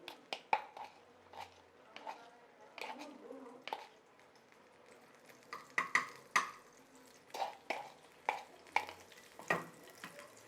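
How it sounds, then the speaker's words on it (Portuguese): Garlic frying in pork fat in a pan, soft sizzling with repeated clinks and stirring taps, a person talking over it. "Espero o alho dar uma fritadazinha, uma fritadinha."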